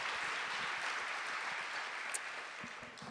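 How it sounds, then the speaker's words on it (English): An audience at a Women With Drive event applauds, a fairly faint, steady patter of clapping that tapers slightly over a few seconds. "Another big round of applause for Phoenix Raceway and Latasha Causey."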